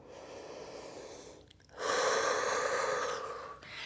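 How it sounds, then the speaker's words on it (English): A Pilates student takes a breath in, then lets out a slow, controlled exhale through pursed lips, a steady airy hiss lasting nearly two seconds, close and moderately loud, with no talking. "slowly exhaling through pursed lips"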